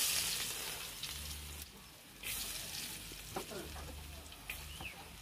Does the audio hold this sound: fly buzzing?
no